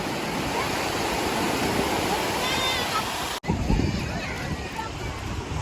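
Sea waves wash steadily at a beach in Mahuva, a continuous broad rushing surf with wind buffeting the microphone, interrupted briefly by a cut midway before resuming.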